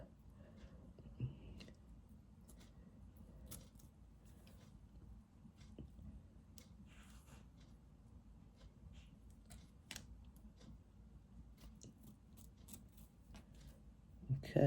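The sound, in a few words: scissors cutting the lace of a wig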